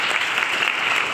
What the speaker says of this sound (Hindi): कृपया आप सभी का जोरदार तालियों से सर का